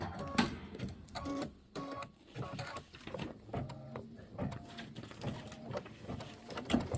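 An embroidery machine stitches the tack-down of fabric quilt flowers, its needle clattering in a rapid, uneven mechanical rhythm that runs throughout at moderate volume and close range.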